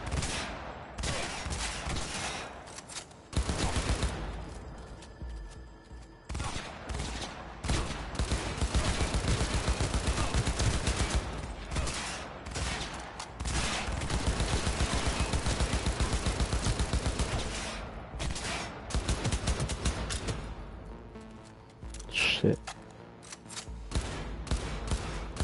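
Sustained bursts of automatic gunfire in the Cyberpunk 2077 video game, rattling on and off across roughly 25 seconds with brief pauses, fairly loud and without speech.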